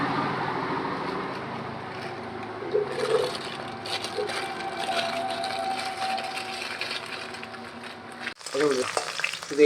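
Potatoes frying in a pan on a low flame, a close, steady sizzle with occasional stirring scrapes and a brief clatter near the end.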